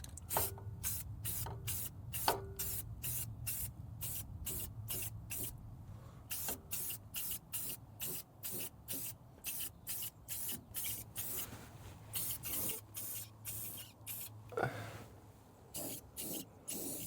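Rust-Oleum gloss black spray paint hissing from a can in dozens of short, close, rhythmic bursts separated by brief pauses, with a few longer sprays toward the end.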